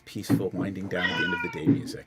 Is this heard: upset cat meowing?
yes